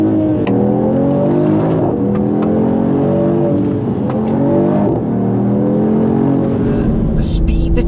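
A Mercedes-AMG GT53 accelerating hard, its engine note climbing in repeated rising sweeps through the gears, loud and close from inside the car.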